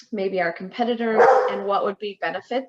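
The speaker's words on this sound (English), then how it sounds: "I apologize for my dog in the background." A dog barks and yips repeatedly in the background of a room while someone talks continuously over it.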